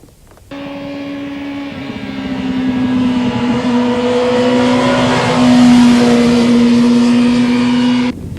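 A motorcycle engine pulls out of a corner on the throttle, a loud close steady drone that climbs gradually in pitch over several seconds before cutting off abruptly.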